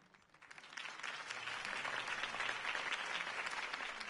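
Crowd applause following a mayoral campaign speech, rising quickly from a quiet start into steady, full clapping and cheering from a large audience that sustains to the end.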